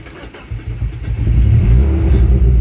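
An old racing car, abandoned for years and now being restored, is started with the key: a faint turning-over rumble catches and swells into a loud, rough, low idle that keeps running.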